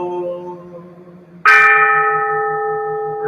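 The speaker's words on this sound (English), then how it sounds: "Allowing that the sound of this bell pervades the universal realm," A ceremonial bell is struck once, loud and close, its bright metallic clang settling into a long sustained ringing hum that fades slowly, following a quieter fading tone from an earlier strike.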